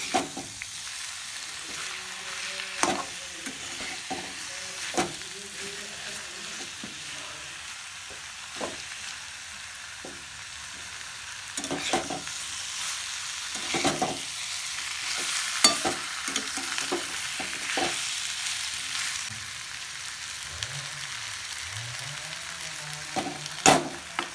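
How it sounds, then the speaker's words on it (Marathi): Raw mango chutney ingredients shallow frying in a pan, a soft steady sizzle punctuated by scattered clinks and scrapes of stirring, fairly quiet and close. "एक शालो फ्राय करून घेणार आहोत"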